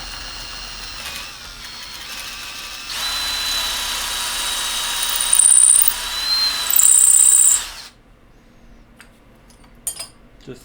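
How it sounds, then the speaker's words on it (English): A drill bores an 11mm hole for a DIY craft knife, a steady close whine that grows louder and grinds harder midway, then cuts off into a few light metallic clinks. "we need an 11mm hole, but we're going to take it out slowly because these drills work slightly differently"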